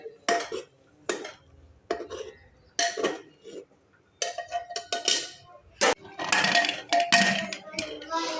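Metal spoon scraping and clinking in a pan in short bursts as crushed peanuts are mixed into a brinjal dish, fairly close, with pauses between strokes and a brief voice near the start.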